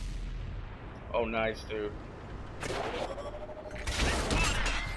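Tank cannon fire striking a light tank in a tank battle video game, heard as two loud bursts of rumbling impact noise a few seconds apart, with someone talking briefly between them.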